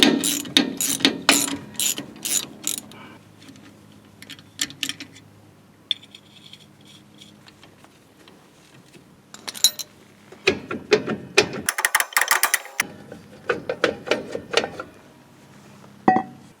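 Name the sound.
ratchet tightening bolt to pull Toyota Tacoma brake drum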